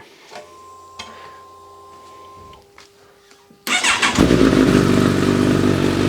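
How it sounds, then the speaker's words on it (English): A 2021 Kawasaki Z1000SX motorcycle cranks and fires up partway through, jumping from quiet ticking to a loud, close, steady idle with a throaty exhaust note. "let me just chuck you guys down there and we'll have a cheeky start up, because it does sound really nice, this bike"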